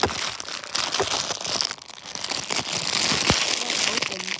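Plastic packaging crinkles and crumples steadily while an unboxing package is being opened, loud and close, with a person talking over it.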